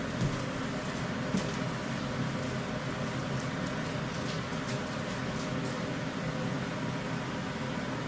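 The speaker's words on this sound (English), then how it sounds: "It's actually the air conditioning." An air conditioning unit runs in a studio, giving a steady broadband hiss and hum that stays even throughout with no other sounds.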